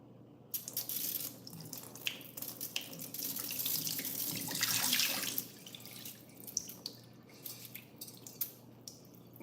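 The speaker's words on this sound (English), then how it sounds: "now we're just gonna pour out the water." Water pours and splashes steadily from a rice pot into a sink, close and fairly soft, then trickles and drips as it tapers off.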